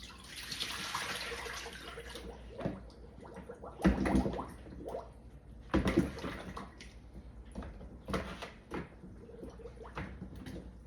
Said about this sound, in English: We're going to give those potatoes a great rinse.